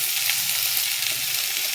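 Potatoes, pointed gourd and pumpkin fry in oil in a pan, giving a steady, close sizzle that holds evenly throughout with no talking.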